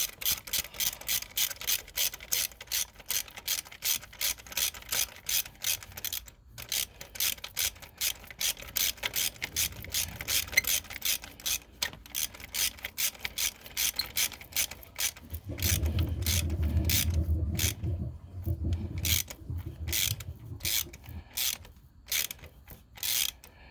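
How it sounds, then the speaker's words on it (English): A hand ratchet tightens a spark plug on a 2009 Infiniti G37x, rapid close clicking in long bursts with brief pauses, joined partway by a lower rubbing rumble. "And grab your ratchet. Tighten it back down."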